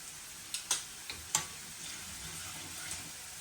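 Garlic frying in oil in a pan until golden for a dhaba-style vagharelo rotlo, giving a faint steady sizzle with a few sharp pops and crackles, no talking.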